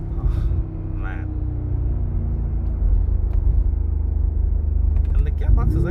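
A 2019 Mercedes-AMG G63, 585 PS V8, rumbles with a deep, steady low engine drone from inside the cabin, holding constant throughout while someone talks over it.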